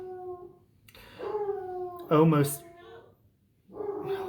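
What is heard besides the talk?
dog barking and howling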